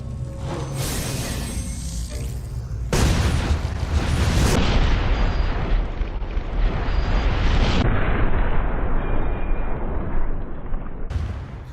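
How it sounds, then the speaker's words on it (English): Explosive headshot fired from the Python revolver in Resident Evil Revelations 2, a heavy booming gunshot and blast that fills the clip with loud, dense roaring noise and rumble, layered with game music and effects, no talking. "So here we go for the explosive headshot"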